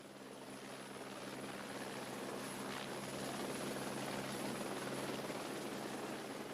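A rescue helicopter's steady rotor thrum and whine hold throughout, gradually growing a little louder, with no voices.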